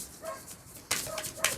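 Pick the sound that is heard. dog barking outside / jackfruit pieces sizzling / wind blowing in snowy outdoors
dog barking outside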